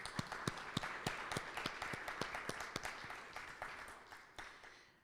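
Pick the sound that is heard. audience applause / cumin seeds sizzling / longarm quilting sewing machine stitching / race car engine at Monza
audience applause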